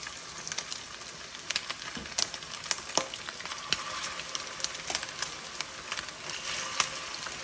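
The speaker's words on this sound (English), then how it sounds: "So I want to start cooking them. And these I fry in vegetable oil." Meatballs frying in hot vegetable oil, a busy close sizzle full of rapid crackles and sharp pops that runs steadily throughout without talking.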